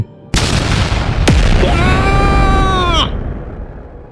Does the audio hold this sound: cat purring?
no